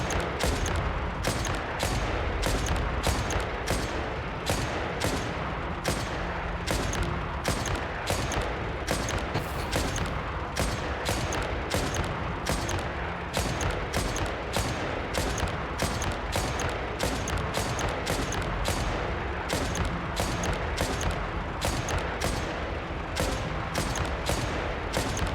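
Rapid, evenly spaced gunshots from a recoiling sniper weapon in Genshin Impact fire steadily for the whole stretch, each crack sharp and close over a dense background din.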